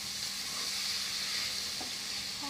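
Noodles sizzle in a hot pan, a steady soft frying hiss with faint scraping as they are stirred, close and quiet with no talking.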